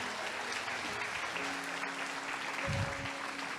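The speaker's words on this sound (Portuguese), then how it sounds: "Aplaude o teu Deus, aplaude." Brief, dense applause from a church congregation fills the moment, steady and close, with a short low rumble partway through.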